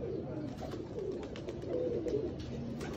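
Pigeons cooing on a rooftop, soft repeated throaty coos close by over a low background hum, with no one talking.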